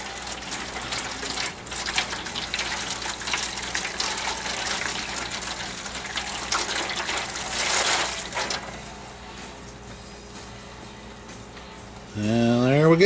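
Homebrew wort pours steadily into a vessel during vorlauf, a continuous close gushing splash that eases after several seconds, ending with a louder swirling burst.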